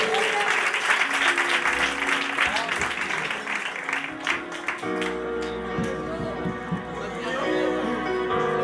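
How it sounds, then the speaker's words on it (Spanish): A congregation at an apostolic church anniversary service in Villaverde applauds steadily, the clapping dense and continuous from start to finish while music plays along underneath. "Fuerte aplauso para el Señor."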